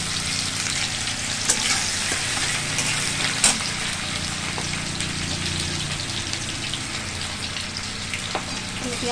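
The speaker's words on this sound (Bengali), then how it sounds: "পেঁয়াজগুলো ভেজে নিই" Onions sizzle steadily in a hot pan of oil, with occasional scrapes and stirs of a spatula cutting through the continuous frying hiss, close by and with no talking.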